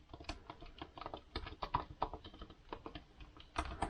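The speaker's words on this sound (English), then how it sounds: "When I press one of the keys, it ends up pressing another one next to it." Quick, irregular typing clatters on the keyboard of an Apple MacBook Pro laptop whose keys sometimes trigger the neighbouring key, with close, soft, steady clicks throughout.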